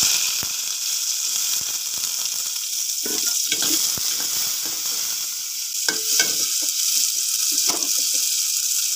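Onion fries in oil in a pan, making a steady, moderate hiss with occasional spoon scrapes and a few brief wet crackles.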